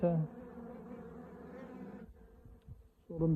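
A small honeybee colony buzzes in short, close bursts at an opened hive, the hum pausing briefly before resuming strongly at the end.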